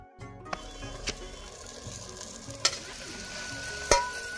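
Desi chicken pieces are tipped into onions and masala frying in a village handi pot. A soft sizzle runs beneath several sharp clanks of a stirring utensil striking the pot.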